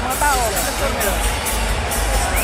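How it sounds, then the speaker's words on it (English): An arena crowd at a Manny Pacquiao boxing match murmurs and cheers in a steady, moderately loud wash of voices, with a nearby commentator talking over it. "And a crowd acknowledging the great man once again"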